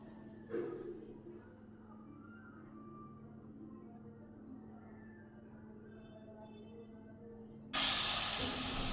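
Water is splashed into a pan of frying spice paste with Kashmiri chili powder and cumin powder. After a quiet low hum, a sudden loud, bright sizzle bursts out and keeps hissing steadily near the end.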